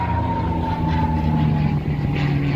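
Rolls-Royce Merlin engine of a P-51B Mustang fighter flying at a warbird airshow, a steady loud drone with a sustained tone and a faint pitch shift as it passes, no talk.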